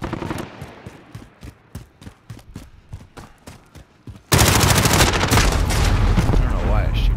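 Rapid bursts of automatic gunfire in a shooter video game, with repeated sharp shots at first, then a sudden dense, loud wall of sustained firing and explosions.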